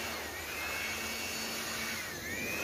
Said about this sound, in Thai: เป่าฝุ่น